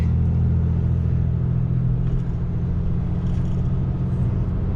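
A Cummins diesel pickup tows a heavy load, giving a steady, loud low-pitched engine drone and road rumble that holds constant throughout with no voices.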